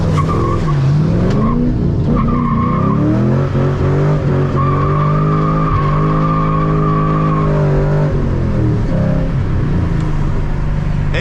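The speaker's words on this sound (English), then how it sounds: "I'm gonna do a skid after these cars" A Mustang drifts with long, loud tire squeals wavering in pitch over a steady engine roar, sustained for several seconds before easing off.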